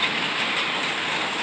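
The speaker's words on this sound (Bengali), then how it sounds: "বৃষ্টি আর বৃষ্টি।" Heavy rain pours down in a steady, dense hiss, loud and close, filling the air with no voices.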